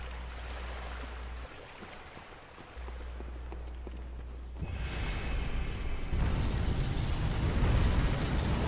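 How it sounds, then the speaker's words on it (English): A sudden fire blast in the dark fantasy game Bloodborne erupts midway, a surging whooshing roar that swells and stays loud after a quieter low hum. "I turned away and then all of a sudden I'm blasted by fire."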